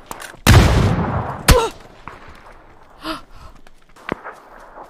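Gunfire in a multiplayer shooter video game: a loud burst of rapid shots near the start, a second sharp crack, then sparse quieter pops and clicks further off.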